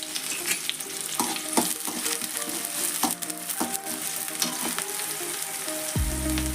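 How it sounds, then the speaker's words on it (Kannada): Gram flour junka cooks in hot oil in a pan, giving a loud, steady sizzle broken by scraping stirs and brief clatters of the spoon against the pan. "ಇದು ಫ್ರೈ ಆಗಲೇವೆ"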